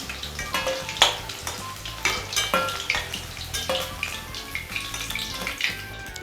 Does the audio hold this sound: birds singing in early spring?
no